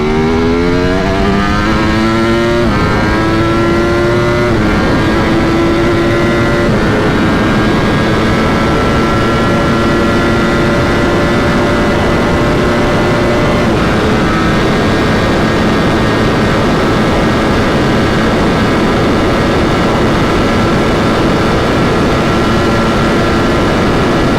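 A stock 2025 Ducati Panigale V4 superbike revs hard on a dyno. Its loud, sharp engine note climbs rapidly, then holds a sustained high-rpm scream for the full run with no talking.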